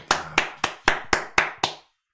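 Seven sharp hand claps in an even, steady rhythm, close and loud, with no other sound around them.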